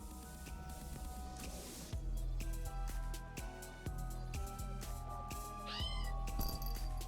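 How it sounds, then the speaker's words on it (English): A kitten in a video game gives several high, wavering meows over a soft musical background with light plucked notes. "I have a feeling this kitten is asking us to help him out"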